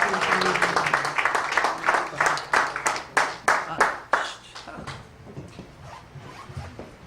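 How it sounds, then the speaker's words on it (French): Congregation clapping during a church wedding service as the pastor comes forward, a burst of loud, dense applause with sharp rhythmic claps that thins out and fades after about five seconds. "Acclamons pour le Seigneur pendant qu'il s'avance."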